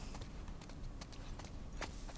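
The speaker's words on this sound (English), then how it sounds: "Oh, we have a horse, right?" Faint horse hooves clip-clop in The Last of Us Part II on PS5. A few scattered, soft hoof strikes sit under a quiet, muffled game ambience.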